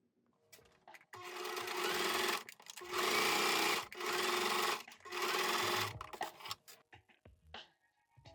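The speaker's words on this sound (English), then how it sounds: "now I'm just gonna go and sew all of them together" A sewing machine stitches fabric pieces of a ruffle tote bag together, running in several close bursts of steady whirring separated by short stops.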